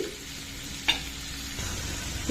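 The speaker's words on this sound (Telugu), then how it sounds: "మిక్స్ చేసి ఇంకొంచెం ఫ్రై అవనిద్దామండి" Egg curry stirs and fries in a pan with a soft, even sizzle and one sharp utensil knock partway through.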